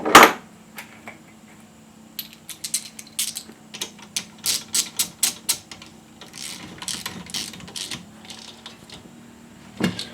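Ratchet tightening a part on a 5HP Briggs & Stratton engine of a 1980 Montgomery Wards 2200 watt generator, with a series of quick clicking bursts in short runs over a low steady hum.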